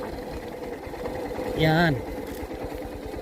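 A motorcycle engine idles on a slope with a low, steady putter, while a voice talks briefly over it and a short high whine rises and falls partway through.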